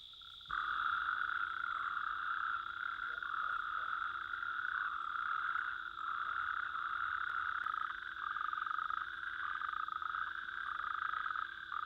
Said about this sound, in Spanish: los sapos comunes se reúnen en las charcas y lagunillas para aparearse